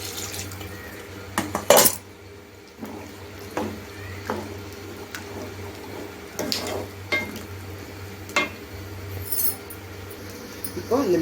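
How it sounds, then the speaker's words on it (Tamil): A steel mixer jar holding rinse water is shaken and the water poured into a simmering chickpea sundal kulambu, giving clanks, a sharp knock and sloshing splashes against a low steady hum in a home kitchen. "இப்போ இந்த மிக்சியை வந்து நான் வந்து நல்லா இப்படி ஒரு குலுக்கிட்டு அந்த தண்ணியை கொஞ்சம் ஊற்றிக்கலாம்."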